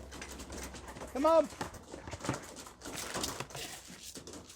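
Pigeons being called in by a handler give a clear coo near the start, followed by softer cooing while someone talks and calls to them.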